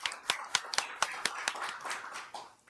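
Short, uneven applause, a scattering of claps that starts crisp and blurs into a brief patter before fading out.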